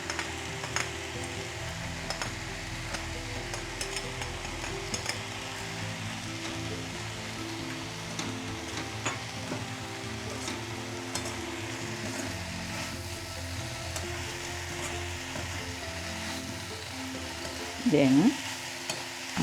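Water spinach and sprats fry in a pan with a steady, close sizzle and occasional stirring scrapes; one brief spoken word breaks in near the end.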